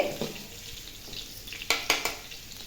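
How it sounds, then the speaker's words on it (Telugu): Beaten egg for egg fried rice frying in hot oil with vegetables, a steady soft sizzle broken by a few sharp utensil clicks near the end, no talking. "ఇప్పుడు ఈ ఆయిల్లో అయితే ఎగ్ వేసుకోవాలి"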